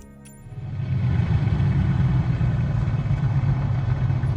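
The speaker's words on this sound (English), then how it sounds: "the engine is right next to your head" A loud, steady aircraft engine drone in Flight Simulator 2024, sitting close as if mounted right beside the pilot's head, rising from quiet to a sustained rough roar that holds for several seconds.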